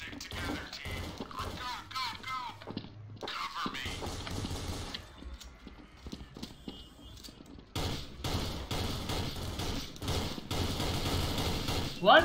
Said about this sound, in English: Let's check our new machine gun, huh?